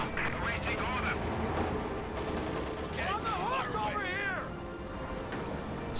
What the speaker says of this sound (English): AT gun gets a shot off on the Panzer IV.